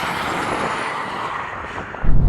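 A BMW M2 Competition accelerates hard in a drag race, its engine a loud, sustained broadband roar heard from inside the car, swelling into a heavier rumble near the end.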